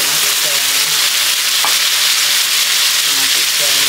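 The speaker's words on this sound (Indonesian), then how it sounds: "Ini daging yang kita dah siap goreng dan kita ketuk tadi, kita masukkan." Meat that was already fried and pounded is added to a hot pan for dendeng, giving a loud, steady sizzle and crackle of frying throughout, with faint stirring noises.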